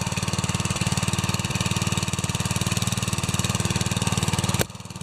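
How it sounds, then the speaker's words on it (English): Small green tractor's engine running after a pull start, a rapid even putter throughout that cuts out abruptly near the end. "Now, on the little green tractor,"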